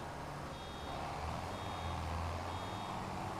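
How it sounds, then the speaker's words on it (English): Reversing beeps from a farm vehicle in Farming Simulator, a steady repeating electronic tone, fairly faint, over a continuous low engine rumble with no talk. "Heard the beeping, just didn't register in my head."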